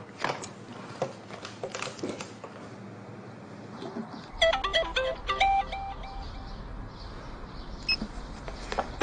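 A mobile phone rings with an incoming call in an urban TV drama scene. After some faint scattered tones, a clear melodic electronic ringtone plays in stepped notes midway through and keeps ringing at moderate volume.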